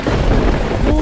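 A thunder and rain sound effect plays for a chalk lightning drawing: a dense, loud rumble over steady rainfall in one brief, continuous burst.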